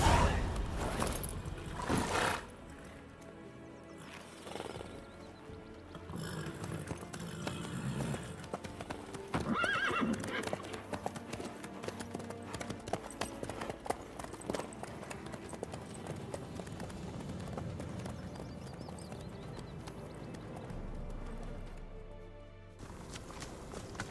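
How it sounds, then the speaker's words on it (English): Horse hooves clip-clop steadily with an occasional neigh in The Witcher 3: Wild Hunt, the steps running throughout under a dense game soundscape of music and ambience. "How's your horse? Swift?"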